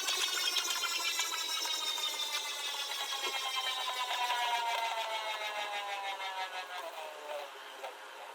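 A Beyblade spins on its own in a stadium, giving a steady whirring hum with a bright metallic rattle. Several tones slowly fall in pitch as it loses speed over the whole stretch. No one speaks.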